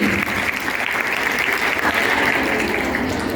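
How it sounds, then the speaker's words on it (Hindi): Loud, dense applause from a school audience welcoming students at a Republic Day function, continuous clapping with no break. "जोरदार तालियों से स्वागत कीजिए"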